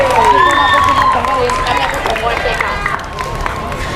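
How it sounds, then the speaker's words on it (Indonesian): A room audience gives a short round of clapping and cheering at an Indonesian Asma'ul Husna memorization and motivation session, while excited voices and chatter ring over it and the applause fades out toward the end. "tepuk tangan dulu dong"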